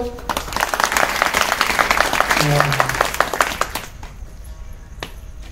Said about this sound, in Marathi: एकदा फक्त महिला मंडळ टाळी वाजवा